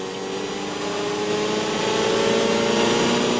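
A Ferrari 488 Challenge Evo race car's engine drones steadily under throttle from the onboard seat, its tone climbing gradually as the revs build, with a high whine layered on top.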